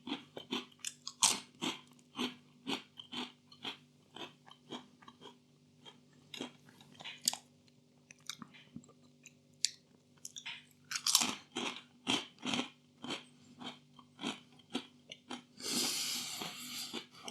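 Close-up crunching and chewing of Walkers Wotsits Crunchy Extra Flamin' Hot snacks, with sharp bites and steady crunches in an uneven rhythm and a longer rustle near the end, and no talking.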